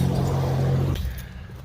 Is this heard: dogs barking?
no